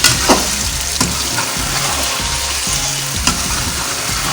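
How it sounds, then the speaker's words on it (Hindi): Steady sizzling of garlic ginger paste frying in a hot karahi, with scraping stirs and occasional spoon knocks, close and continuous, no talking. "इसको 10 मिनट तक बहुत अच्छे तरीके से भूनना है"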